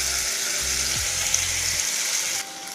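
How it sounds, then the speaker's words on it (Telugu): Steady frying sizzle of tomato tossed into onions cooking in hot oil for gongura chutney, a continuous close hiss with a brief low clatter as the pieces drop in, no voices. "ఆయిల్ వేడెక్కాక ఆనియన్ ఇలా వేగాక ఇప్పుడు టమోటా వేసుకుందాం."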